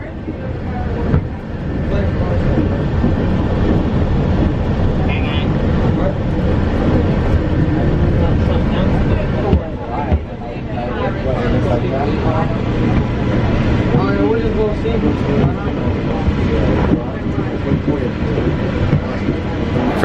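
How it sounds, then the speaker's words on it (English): A Disney monorail train moves past at night, a loud rushing rumble close by with a rising and falling electric whine, while voices chatter in the crowd around it. "The monorails are moving fast tonight"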